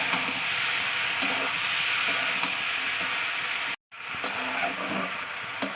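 Boiled eggplant and potato fry in a pan with a steady, close sizzle and stirring scrapes, broken by a brief silent cut before the frying resumes.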